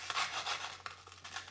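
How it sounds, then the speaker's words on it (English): A knife saws gently through crisp sponge biscuits, rubbing and rasping in several close, quiet strokes with short pauses between them, while strawberry tiramisu is being made. "Just gently apply some pressure and go through it until you will find that it will cut nicely."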